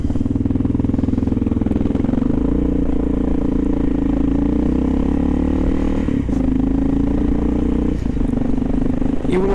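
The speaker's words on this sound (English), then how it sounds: "Crossing over the GW like this in this wind on the XR." A Kawasaki KLR650 motorcycle crosses the George Washington Bridge in New York City during an arctic blast with strong wind. Its loud, close, steady engine drone runs throughout, mixed with heavy wind rumble.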